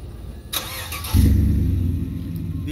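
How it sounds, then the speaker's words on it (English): A 2015 Chevrolet Silverado 1500 pickup with dual exhaust fires up after a short starter whir, its engine catching with a loud, deep rumble that settles into a steady, throaty idle close by. "This truck has a great sound. I'm gonna go ahead and start it up for you guys."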